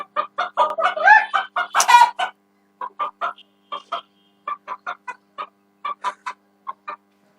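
Repeated rooster calls, a loud crowing burst near the start followed by a series of short, evenly spaced clucking calls, close and clear with no talk.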